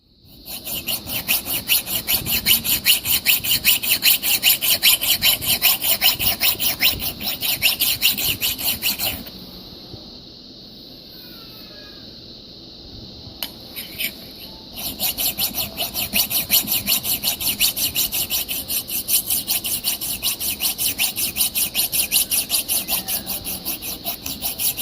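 A metal file rasps steadily along the edge of an axe used for splitting firewood, strokes repeating in a fast, loud rhythm that pauses briefly midway before resuming.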